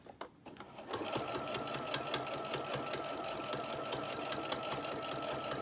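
A sewing machine stitches a small tote bag with pockets, starting after a brief quiet moment and then running loud and close in a steady, fast, even whir for several seconds.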